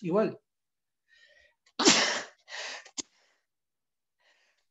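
A single sharp human sneeze at the start of a quiet classroom lecture, followed by brief murmured speech and a short gasp-like breath.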